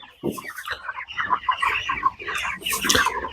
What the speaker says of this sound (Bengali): এই মুরগিগুলো কিছুক্ষণ পরে চলে যাবে